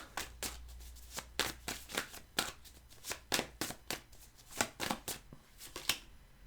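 A deck of tarot cards being shuffled by hand, with repeated crisp riffling flutters and slaps in an uneven rhythm, close and clear with no talking.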